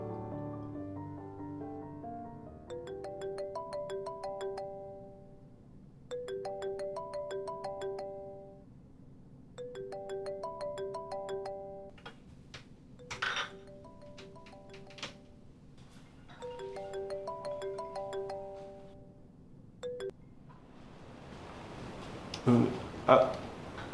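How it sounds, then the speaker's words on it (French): A mobile phone rings with a repeating melodic tone, several bursts separated by short pauses, fairly clear and close, with a few louder knocks and rustles toward the end. "Ah, oui, ton téléphone sonne."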